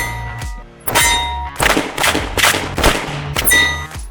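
Pistol shots at an outdoor shooting range, firing a 17-caliber handgun: several sharp, loud reports spaced roughly half a second to a second apart, each with a ringing metallic tail.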